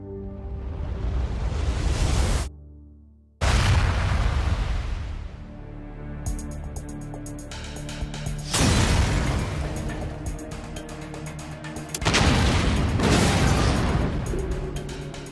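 Dynamite test explosions go off one after another, several loud booming blasts with rumbling tails, separated by brief lulls and one abrupt cut to silence.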